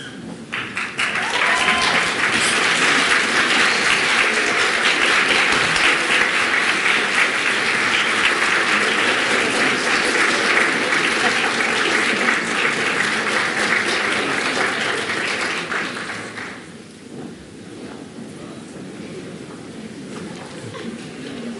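Graduates at a university convocation in Halifax stand and applaud their parents, families, faculty and staff, a broad, loud ovation that holds for about fifteen seconds before fading to a quieter room murmur.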